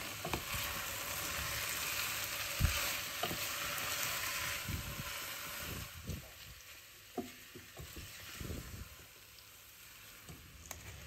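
Eggs, chicken and vegetables stir-fry in a hot pan for Asian fried rice, with a continuous loud sizzle broken by scraping and clacking as the food is stirred.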